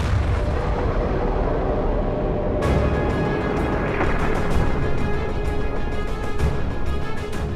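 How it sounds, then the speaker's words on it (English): A supernova explosion sound effect for the star Betelgeuse, a dense rumbling roar that bursts sharply partway through into crackling, booming blasts and stays loud to the end. "And that sets off the most dramatic explosion in the universe."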